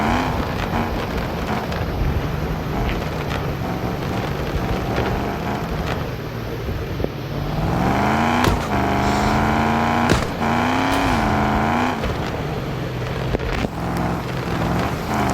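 An off-road vehicle engine drones under load during a driving test, a loud close motor whose pitch rises and falls as it revs, with a strained whine surging in the middle.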